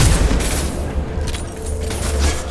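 Concussive Shot fires in Mass Effect 2, a loud, close, continuous booming rumble with dense low-end impact and steady noise that barely lets up through the whole stretch.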